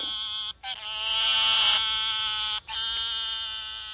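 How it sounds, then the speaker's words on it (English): A squirrel tree frog calls in a steady, raspy, bleating trill, close and loud, with brief breaks near the start and again later, and no voices. "This one's called a squirrel tree frog."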